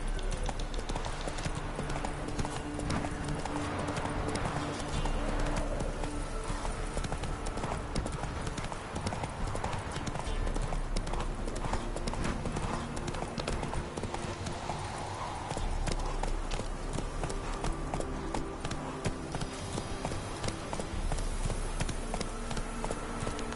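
Hooves of Roach, a horse in The Witcher 3, clip-clop in a steady trotting rhythm throughout, loud and close, layered over a continuous game soundtrack and ambient bed.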